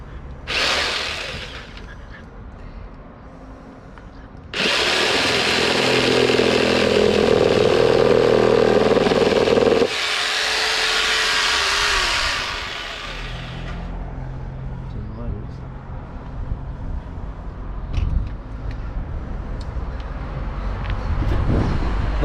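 Power tool cutting wood while building a hut at the end of a balcony, running in loud bursts of roughly five seconds each, separated by quieter pauses with faint background clatter.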